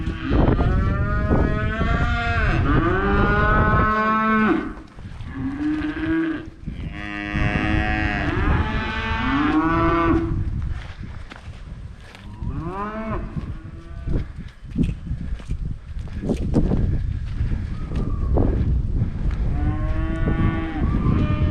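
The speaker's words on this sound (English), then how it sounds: "That's the group of calves." Weaned calves on a farm moo loudly and repeatedly, several overlapping drawn-out bawls from a group close by, with only brief gaps between calls and no one speaking.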